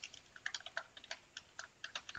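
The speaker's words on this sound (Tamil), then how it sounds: "இங்கே பவர் ஷெல்னு டைப் பண்ணுறோம்" Quick, uneven keystrokes on a computer keyboard, typed close up and fairly quiet, with short bursts of clicks and brief pauses between them and no talking.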